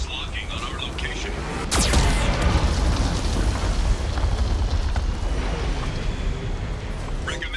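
Geth cannon firing in Mass Effect Legendary Edition, a heavy booming blast with a sharp crack, followed by rumbling debris and a sustained low roar, with a voice speaking during it.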